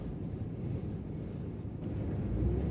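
Steady, strong crosswind on the Osmangazi Bridge buffets the microphone with a low rumbling roar throughout, no voices.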